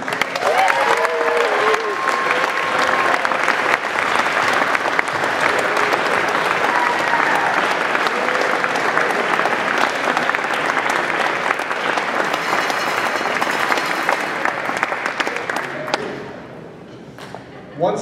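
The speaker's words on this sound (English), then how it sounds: "Please join me in applauding our Air Force's newest leaders" A large audience applauds at an Air Force leadership school graduation ceremony, loud, sustained, dense clapping with some crowd noise that holds steady before tapering off toward the end.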